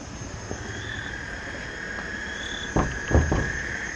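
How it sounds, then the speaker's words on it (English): Frogs call at night near Arenal Volcano in Costa Rica, a constant chorus of high trills and whistles forming a dense background, with a few louder knocks and thumps from something close by. "Lots of frogs."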